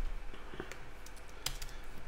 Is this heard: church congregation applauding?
no